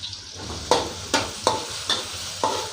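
Sizzling oil in a wok as chili and garlic are stir-fried, with a spatula scraping and tapping the wok several times as ingredients are tossed, no one speaking.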